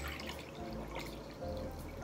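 Cold water straight from the fridge trickles into a measuring cup for homemade sparkling water, a soft, quiet pour with light drips, heard alone.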